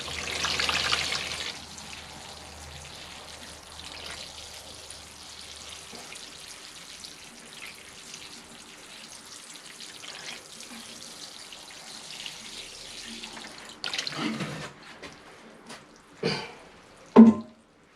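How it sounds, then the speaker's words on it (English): Water poured over a freshly repotted Acer bonsai: a soft, steady splashing and trickling that is faint for most of the time, with a few louder bursts and knocks toward the end. "so we'll come in with the final drenching."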